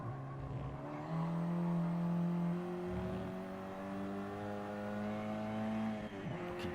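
Ford Focus Cup race cars lap Mount Panorama at Bathurst, engines droning at a sustained high pitch that rises and shifts with gear changes, fairly distant and steady throughout.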